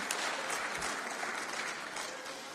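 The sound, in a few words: audience applauding in European Parliament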